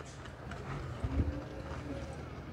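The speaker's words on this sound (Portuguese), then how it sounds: "Essa é uma éguazinha, né?" A small white mare walking at a horse fair in Cachoeirinha, Pernambuco, with soft clip-clop hoofbeats close by amid low background murmur.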